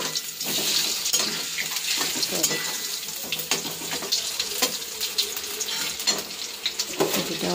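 Potatoes frying in a pan in a home kitchen, a continuous loud sizzle with scattered clatters of stirring, close by.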